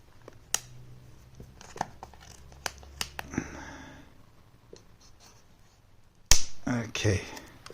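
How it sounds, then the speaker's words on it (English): Plastic wrapping on a Pixel Buds box is cut and torn open in a series of close, sharp snips and crinkles, then ends with a louder burst of ripping plastic. "cut the plastic"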